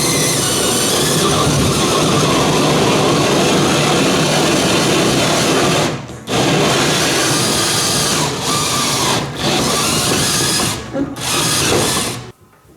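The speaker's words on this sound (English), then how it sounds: "So once you get your pilot hole started, you just push up gently until you feel it going through." Power drill cutting holes in a drywall ceiling for pot lights, a loud continuous whirring grind that runs for several seconds, then breaks off in a few short stops and restarts before ending.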